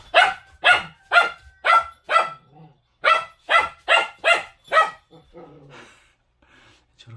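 A three-month-old puppy barks at chickens it is herding, a close, loud run of about ten sharp barks in two bursts, then a few soft whimpers and yips.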